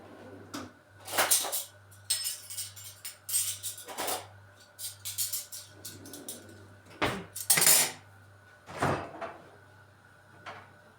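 Plates and dishes clatter and clink in a home kitchen as two plates are set out for a Ramadan evening meal, with several sharp bursts of handling scattered over a steady low hum.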